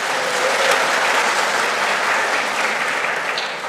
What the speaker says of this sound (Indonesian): Kita tepuk tangan dulu, tidak apa-apa.